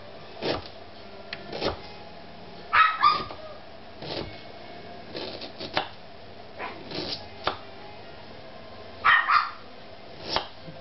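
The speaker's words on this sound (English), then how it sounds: "And that's my little chihuahua." A chihuahua barks in scattered short yaps and yips, some in quick pairs, spread across several seconds in an indoor room, with quiet gaps and no talking between the barks.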